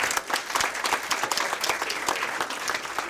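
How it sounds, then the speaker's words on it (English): Sustained applause from a crowd at a school district meeting honoring athletes, dense steady clapping that fills the whole stretch without pause, fairly close and loud. "Let's give her another big round of applause."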